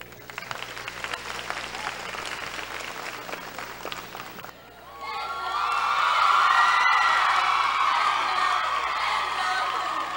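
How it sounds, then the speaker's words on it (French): Crowd at a Miss USB 2016 pageant final bursts into loud applause, cheers and whoops partway through, following an earlier stretch of softer background noise and voices, the clapping swelling and holding strong to the end. "Chère assistance, passons vos applaudissements."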